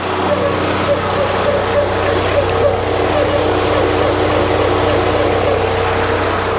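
A 2016 Toyota Tundra TRD Pro engine runs at a steady, raised idle, a loud continuous hum with no clear rise in revs, heard close up.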